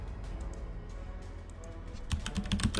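Keys clatter on a computer keyboard in quiet, close, irregular taps, then a quicker, louder burst of typing near the end.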